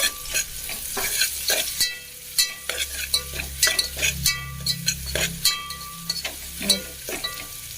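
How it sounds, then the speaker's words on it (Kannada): Cut green chillies and kasuri methi sizzle in a pan while a spoon scrapes and knocks against it in repeated sharp strokes over a constant frying hiss, up close with no speech. "ಇವಾಗ ಇದನ್ನು ನೀಟಾಗಿ ಫ್ರೈ ಮಾಡಬೇಕು"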